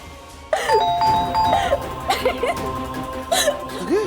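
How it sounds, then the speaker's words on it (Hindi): A doorbell rings with repeated ding-dong chimes in several bursts across a few seconds, loud and close, with vocal sounds between the rings. "को घंटी कौन बजा रहा है?"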